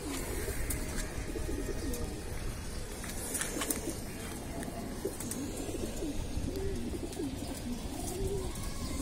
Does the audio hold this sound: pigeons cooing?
yes